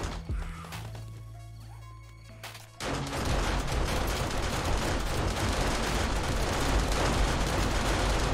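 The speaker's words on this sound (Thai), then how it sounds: "ยิงกันรัวมาก" Automatic gun turrets in the survival game 7 Days to Die fire rapidly and without a break, a dense, loud, continuous rattle of gunfire. A quieter stretch with a low hum and scattered clicks comes before it.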